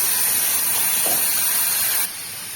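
Ground spice paste hits hot oil while cooking a Rui fish curry with black cumin, giving a loud, steady close-up sizzle that drops to a softer hiss near the end.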